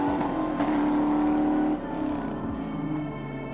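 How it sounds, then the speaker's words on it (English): A 2003 Ford Mustang GT V8 idles and revs nearby, a loud steady engine drone that steps down in pitch partway through, with no talking over it. "That's my 2003 Ford Mustang GT."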